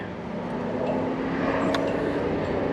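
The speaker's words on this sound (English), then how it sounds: "So I will bring the drone back quickly" Camera drone flying back overhead as rain begins: a steady, buzzing motor whine with a constant drone beneath, fairly close and unbroken, with faint outdoor background and no speech.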